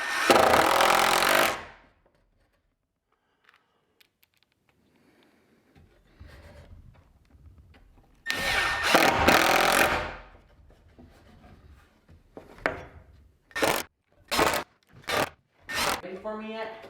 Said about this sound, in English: So I'm going to hang all these joist hangers and then we'll start cutting our joists.